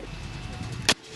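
Sodium metal reacting with water inside a bottle rocket gives a single sharp burst of noise near the end, brief and loud over low background hum, then drops to near silence.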